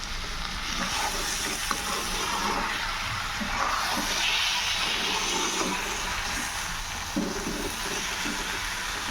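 Masala paste for kaju paneer curry fries in a pan with a dense, continuous close sizzle, with occasional stirring scrapes mixed in.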